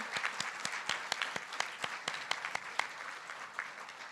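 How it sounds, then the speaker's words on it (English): Audience applause at an awards dinner: a moderately distant crowd claps steadily throughout, with individual sharper claps standing out over the wash. "So let's give them a round of applause"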